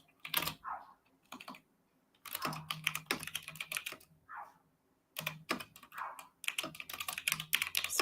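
Rapid bursts of clicky computer keyboard typing come in several clusters separated by short pauses, close and fairly loud, with brief vocal sounds between bursts during a Resident Evil 4 livestream.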